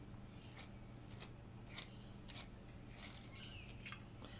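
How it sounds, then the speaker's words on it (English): A pastel pencil is turned in a handheld sharpener, giving quiet, rhythmic rasping scrapes in short repeated strokes against a faint background hum. "Just testing a sharpener."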